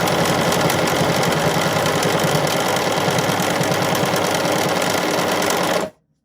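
A BERNINA sewing machine runs steadily at close range, top stitching with an Edgestitch Foot #10, a continuous rapid mechanical whir and needle thump that stops abruptly at the end.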